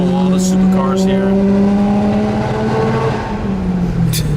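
Mercedes V12 car with a costly aftermarket exhaust, revved in the middle of a street, its deep engine note rising and falling close by, with sharp bursts and shouting voices over it.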